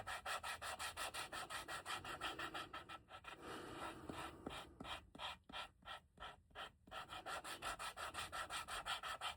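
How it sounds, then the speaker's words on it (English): Leather for a bifold wallet being sanded by hand with 220 grit sandpaper, a close, quiet, rhythmic back-and-forth rasping that briefly slows and breaks into separate strokes before resuming its steady pace. "sand a little bit of this off here. We'd already hit it with a 240. I'm sorry, we hit it with it's a 220 now."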